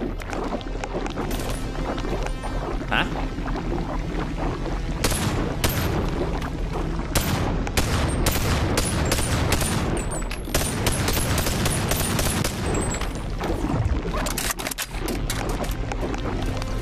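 Gunshots in the VR game BONELAB, loud close pistol reports fired in quick succession over busy, dense game noise, with bursts of rapid fire clustered in the middle and near the end.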